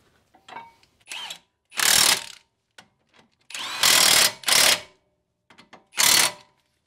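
A power tool or ratchet tightens brake caliper bolts during a budget brake upgrade, giving several loud, close, buzzing bursts, each about half a second long, separated by softer clicks and handling noises.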